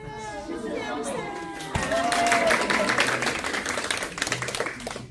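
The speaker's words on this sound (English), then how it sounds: "let's give that a round of applause" Audience at a self-defense seminar breaks into applause, clapping rising sharply after a short stretch of talk and continuing steadily with some chatter underneath.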